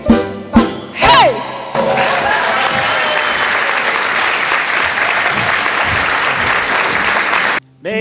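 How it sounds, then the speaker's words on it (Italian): A live audience at an Italian stage performance breaks into loud, sustained applause and clapping for several seconds after a few brief vocal sounds, then stops abruptly. "Facciamo un altro applauso, forza!"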